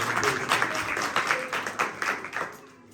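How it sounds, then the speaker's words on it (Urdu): Hands clapping during a church worship service, a dense irregular patter of many claps through the room that fades slightly toward the end, with no clear voice over it. "تالی بہت ہو رہی ہے"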